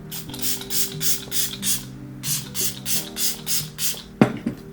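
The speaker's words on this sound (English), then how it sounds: "we're going in with the Milk Makeup Hydro Grip Set and Refresh Spray" Milk Makeup Hydro Grip Set and Refresh Spray misted onto a face in a steady series of about a dozen short, close hissing pumps, evenly spaced with a brief pause midway, ending with a soft clatter.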